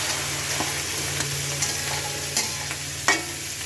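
Vegetables cook in a tomato masala for a pangas fish curry, a close, continuous sizzle broken by several sharp stirring scrapes and taps, with a low hum beneath.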